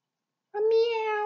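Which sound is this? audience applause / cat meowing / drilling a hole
cat meowing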